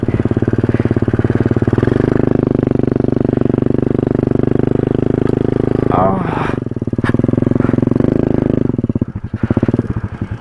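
An off-road motorcycle climbs uphill on a beach, its engine a loud, steady drone that rises and falls with throttle. Rattling clatter and scraping come through near the end, and voices talk over it.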